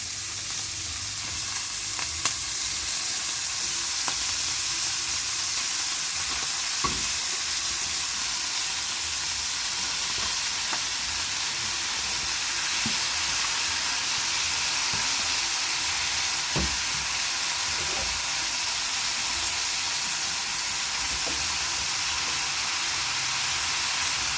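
Vegetables fry steadily in a hot pan with a continuous bright sizzle and hiss, occasional soft stirring clicks and pops, with no talking.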